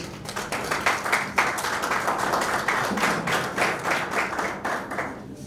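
Applause at an association's election and handover ceremony, a room of people clapping in a somewhat uneven rhythm with distinct individual claps, sustained at moderate volume and slightly distant.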